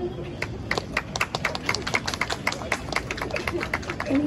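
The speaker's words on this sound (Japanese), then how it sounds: "拍手" A small street audience claps at a live performance outside Kabukicho Tower in Tokyo, with distinct, fairly quick claps over low background chatter and ambient street noise.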